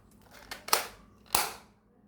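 A toy pistol gives a few sharp, crisp clicks and snaps close by, two louder ones standing out in a short, quiet stretch with no talking.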